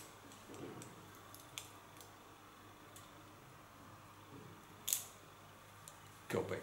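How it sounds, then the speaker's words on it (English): Scissors slice-cut hair freehand around the ears, producing faint, sparse snips and soft slicing scrapes over a low fan-like hum, with a couple of sharper, louder snips toward the end. "Get the small hairs on the ears. Slice cutting."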